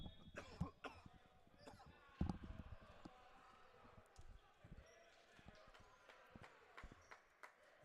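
Commentator coughing at a men's volleyball match, a few short, close coughs and throat clearing standing out over gym noise of bouncing balls and footsteps.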